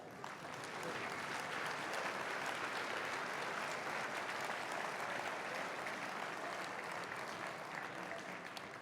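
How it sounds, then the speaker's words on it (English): A crowd at a townwide school music festival bursts into dense, even applause that holds steady for several seconds before easing off, heard from a moderate distance with no clear speech over it. "I think they deserve one more round of applause."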